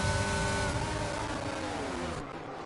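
A Formula 1 racing car engine in the F8 video game at the Miami round, revving hard and loud as it pulls alongside and overtakes another car, with a steady high whine that cuts off sharply near the end.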